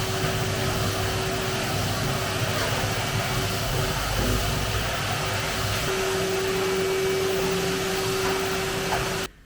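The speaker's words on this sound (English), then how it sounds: "so I need to get the hoover out." A Hoover vacuum cleaner runs steadily indoors for about nine seconds, a loud continuous motor drone with a constant whine, cutting off abruptly at the end.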